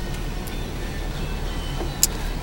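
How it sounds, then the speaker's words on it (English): Car reversing slowly at a car wash, a low steady engine hum with faint whirring and a brief click near the end, no talk over it. "we're backing up the car because apparently this car wash don't work"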